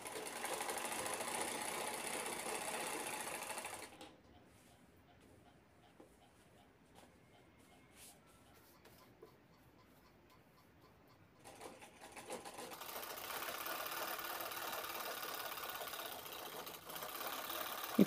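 A sewing machine runs in steady, fast bursts as it stitches both sides of a fabric shopping bag with lining, loud for about four seconds, stopping for a quiet pause, then running again until the end.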